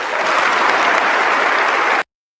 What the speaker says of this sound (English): I think we owe them a round of applause for that.